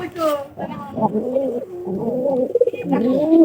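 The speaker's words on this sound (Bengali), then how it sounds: "এই যে এই ঘরে পায়রা ডাবে" Pigeons in a loft coo in repeated low, rolling calls that run steadily through the stretch, close by, with a voice speaking over parts of it.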